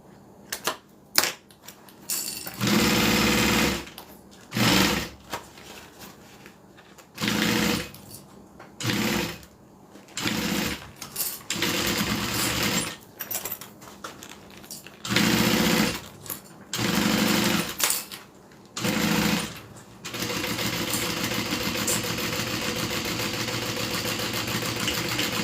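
A sewing machine stitches a custom order in repeated bursts of rapid mechanical whirring, each run lasting a second or several, separated by short pauses, then a longer steady stretch at the end.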